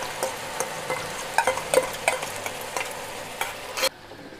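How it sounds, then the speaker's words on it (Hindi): Onion fried together with two or three ground green chillies in a pan, sizzling steadily while a spoon scrapes and stirs in uneven strokes, close and fairly loud, with no one talking; the sizzle cuts off abruptly near the end. "अब ये प्याज भुन गया है"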